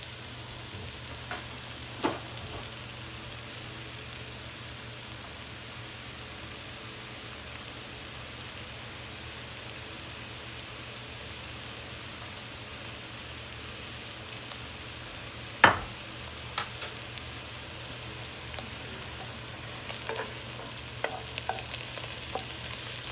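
Flour roux made with butter being stirred in a pan, a soft steady sizzle with faint scraping strokes and a few sharper clicks of the spoon against the pan.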